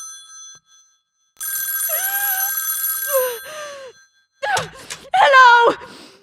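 A telephone bell rings in a shrill, sustained burst, then breaks off as a woman groans and moans in distress. Her strained vocal sounds follow over near silence.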